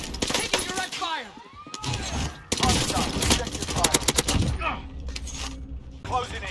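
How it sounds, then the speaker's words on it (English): Video game gunfire comes in loud, close bursts of rapid cracking shots, irregular and overlapping, mixed with shouted voices and game sounds. "Taking direct fire!"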